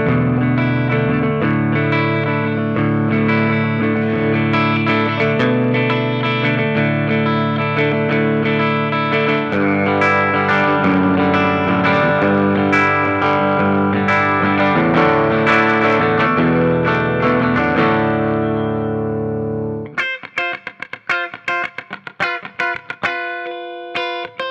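A 2020 Epiphone Uptown Kat ES electric guitar, ruby red metallic, plays through distortion and chorus effects, sustained chords giving way to choppy, staccato strums near the end, loud and without talk.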